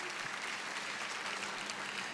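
A church congregation applauds during an online worship service, steady dense clapping filling the whole moment at moderate, even loudness with no voices over it.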